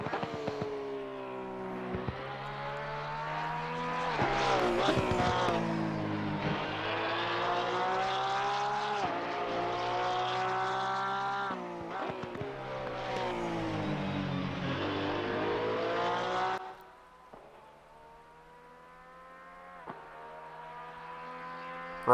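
Porsche 992 GT3R race car engine in Assetto Corsa Competizione at Valencia, loud and close, revving up and down through rising gear pulls for about sixteen seconds before dropping to a quieter idle-like drone.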